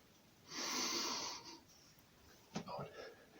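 A breath drawn in during a leg-crossing exercise in martial arts basic training, heard as a soft, airy inhale lasting about a second, followed by a short puff and faint breathy noises.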